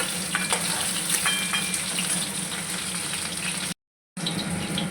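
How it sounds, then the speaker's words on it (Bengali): Pieces of snakehead fish frying in hot oil, a close, dense sizzle running steadily with small pops, briefly cutting to silence before resuming. "সব কটা মাছ আমি এইভাবে উল্টে উল্টে সেটাকে ভেজে তুলে দিলাম"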